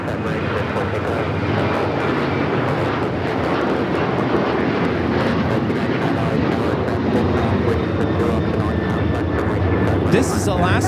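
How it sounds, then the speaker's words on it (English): An Alaska Airlines Boeing 737-900ER taking off at LAX makes a loud, sustained jet engine roar that holds steady throughout, with a person talking over it. "This is Alaska Airlines 1418 taking off to Guadalajara on the 737-900ER."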